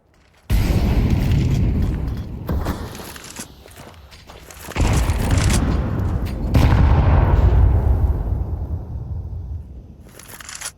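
A frag grenade detonates during a professional Counter-Strike 2 match on the Anubis map, with heavy booming bursts and rumbling in-game gunfire and movement noise spread across the stretch, loud and dense.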